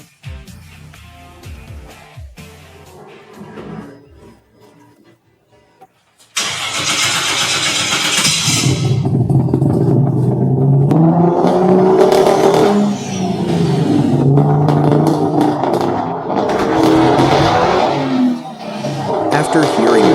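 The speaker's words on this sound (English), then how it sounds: "Now it's time to properly appreciate the true exhaust note of our Supra." A rebuilt, once-abandoned 1993 Toyota Supra MK4 cranks and fires into a loud idle, followed by repeated exhaust revs, close and prominent, after some quiet talk at the start.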